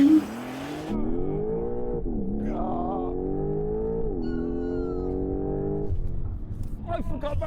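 A sports car launches hard for a 0-60 mph run, its engine roaring loud and close as the revs climb steadily through two gear changes before easing off, with a brief burst of voices near the end.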